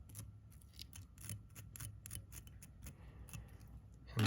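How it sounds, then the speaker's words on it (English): Small scissors snip along the side of a fly, trimming teased-out dubbing fibers in a quick series of crisp, close cuts, with a louder clunk at the very end. "come in here with your scissors along the side and just kind of trim them"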